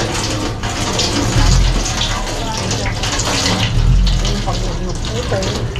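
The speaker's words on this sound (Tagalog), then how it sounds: "Buhusan mo dyan. Tubig." Water pours in a steady, rushing stream, swelling louder twice, with voices in the background.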